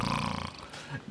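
A voice imitates a short, guttural growl for a creature crawling through a dark tunnel in a tabletop fantasy game: a close, rough rasp about a second long that fades into a low rumble.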